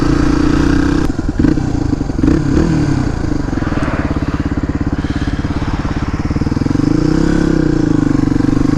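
A Suzuki DR250 with a Dominator R exhaust rides along a road, its single-cylinder engine thumping loud and close in a steady pulsing drone that rises and eases as the throttle changes.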